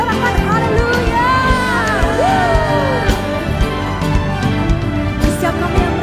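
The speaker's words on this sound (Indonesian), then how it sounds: "Sorakan haleluya." A church congregation cheers and shouts hallelujah during a service, a dense, steady crowd roar with whoops and raised voices under music, loud and continuous throughout.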